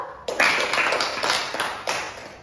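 A small group in a therapy activity session claps for a participant, several distinct bursts of close, sharp handclaps in an uneven rhythm, some louder than others, fading toward the end.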